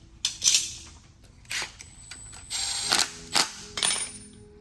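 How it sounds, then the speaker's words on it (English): Ratchet tightening a bolt on the timing tool bracket atop the cylinder head of a Rolls-Royce V12, several close, crisp bursts of clicking strokes separated by short pauses. "Then you're going to put the bolt and then we're going to tighten the bolt."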